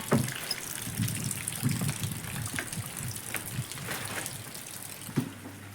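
Monsoon rain falls steadily around a house in rural Konkan, a soft continuous hiss of water with faint splashes and a few brief knocks, fairly quiet and without voices.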